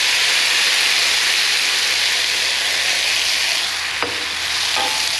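Peas and carrots fry in a pan with a loud, steady sizzle that runs throughout, while a few utensil scrapes and taps stand out near the end.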